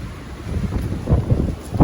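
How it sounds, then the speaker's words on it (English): Strong wind buffeting the microphone outdoors, a rough low rumble that surges and gusts louder toward the end, with no voices. "Well, it's horribly windy."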